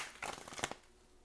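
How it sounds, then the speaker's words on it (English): A deck of tarot cards is riffled in a quick, close shuffle lasting about half a second, a burst of crisp papery flutters that settles into quiet. "Let's get one more shuffle."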